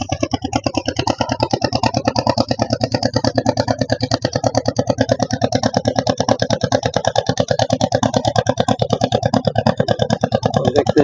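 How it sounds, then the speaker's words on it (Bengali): Engine of a cargo boat passing on a river toward Bangladesh, a loud, close, rapid mechanical chugging with an even rattling pulse that runs unbroken and steady throughout, alone without talk. "এই যে বোটটা আসছে, এটা মালবহী বোট"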